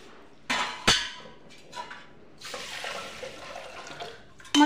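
Masoor dal lentils being washed in water inside a pressure cooker pot, with short splashes, sloshing and clinks of the pot at close range, no talking.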